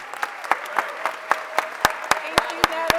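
Audience applause at a mayor's morning press conference welcoming a new member of the administration, steady clapping with sharp individual claps standing out, a voice speaking faintly over it.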